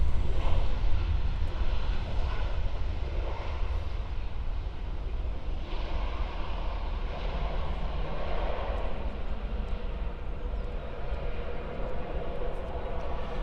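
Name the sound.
Boeing 737 airliner arriving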